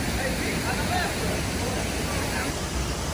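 Steady, dense rush of a waterfall on Kauai, Hawaii, a continuous broadband roar with no breaks and no voices.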